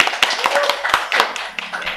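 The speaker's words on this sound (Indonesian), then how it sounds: "Tepuk tangan buat kalian" A few scattered hand claps, sparse and uneven, from a small group at a vocational high school podcast competition for SMK Karya Bangsa students. The claps sit close and moderately loud over a faint room murmur.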